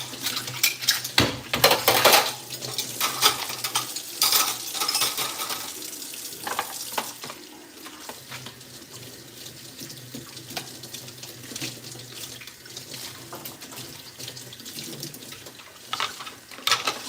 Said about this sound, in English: I'm washing dishes up.